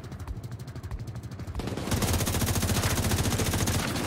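An enemy mounted gun in The Division 2 fires long, rapid, evenly spaced automatic bursts, the rattle growing louder and denser about halfway through and continuing steadily to the end.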